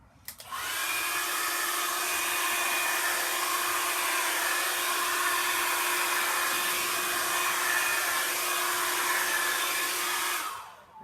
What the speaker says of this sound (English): I'm now going to get the blow dry, so it might be a bit loud here.